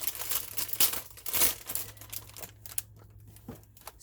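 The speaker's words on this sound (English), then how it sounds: "Sorry for the crinkling. I haven't opened it yet." Unopened plastic packaging crinkles close up in bursts during the first half, with crackling rustles that fade to sparse faint rustles later, no talking.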